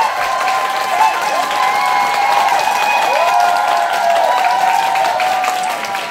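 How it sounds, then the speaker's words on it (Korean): A crowd at a business talk applauds and cheers to welcome a company president to the stage, a loud continuous wash of clapping with shouted whoops and ringing voices layered throughout. "강지연 사장님 모실 때 그 박수 부탁드리도록 하겠습니다"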